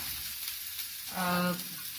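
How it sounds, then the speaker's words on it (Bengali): Ginger and spices fry in a pan at a Bengali cooking demonstration, a steady soft sizzle running throughout with a brief louder burst of stirring midway, nearby and moderately loud. "একটু জিঞ্জার, তুমি দেখছো আমি ভাজছি"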